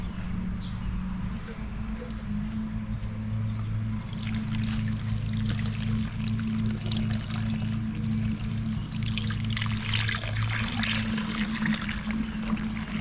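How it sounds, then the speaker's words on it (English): Water pours and trickles steadily for several seconds against a low background hum, a soft continuous splashing onto the soil of a newly planted flowerpot. "Now let's water this baby in."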